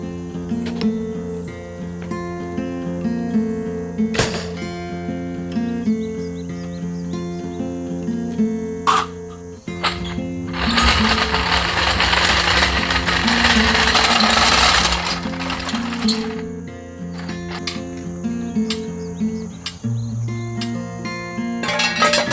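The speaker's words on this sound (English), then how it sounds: "I think I'm going to grab the air hose and just blast and see what I can do." Compressed air from a hose blasts steadily for about five seconds under a Chevy Silverado, a loud broadband hiss that rises over a background of tonal hum and mechanical clatter.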